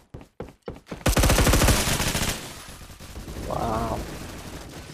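Machine gun fire in the Roblox game Phantom Forces, a loud rapid burst of rattling shots after a few single cracks, fading into a lighter stretch with further distant gunfire and battle noise.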